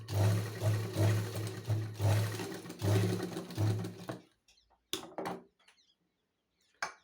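A sewing machine stitches a blouse in a steady, rhythmic close run for about four seconds, then stops, leaving a few faint clicks and handling sounds.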